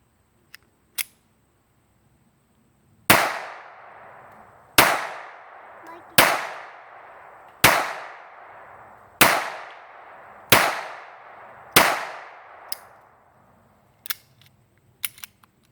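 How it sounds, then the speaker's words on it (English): A Phoenix Arms HP 25 pistol firing .25 calibre 50-grain PPU rounds on its first outing: sharp, cracking shots in a spaced series of about six, each followed by a short ringing decay, with fainter clicks and handling sounds before and after. "Very first time this gun has been shot. See how she does."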